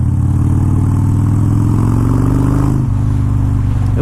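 A Dyna motorcycle with floorboard pegs on a test drive, its engine loud and close as it pulls hard and bangs up through the gears, with a brief dip near the end where a shift comes before the drone carries on.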